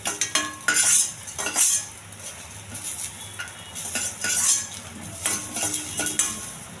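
Garlic and lentils fry in a pan, the metal spoon clinking and scraping against it over a soft sizzle, with stirring strokes in uneven bursts close by.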